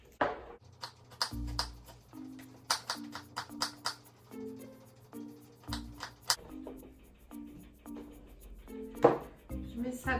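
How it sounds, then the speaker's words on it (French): A garlic clove being peeled and chopped on a board, a series of sharp, separate knife taps in an uneven rhythm, close and fairly quiet, with soft background music beneath. "Je vais commencer par éplucher et hacher ma gousse d'ail."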